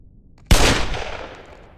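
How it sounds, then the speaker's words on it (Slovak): Gunfire in the Squid Game video game bursts in suddenly after a short quiet lead-in, a loud, close crack that rolls off into a long, fading echo. "už to tu strieľa"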